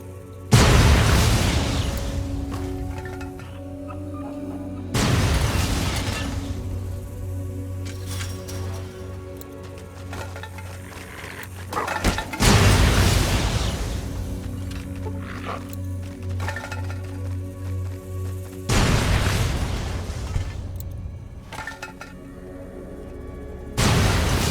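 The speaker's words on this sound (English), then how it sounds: "the microfusion grenades aren't actually that strong" Microfusion grenades explode in Fallout: New Vegas, a series of heavy, booming blasts spaced about five seconds apart, each decaying into a rumbling tail.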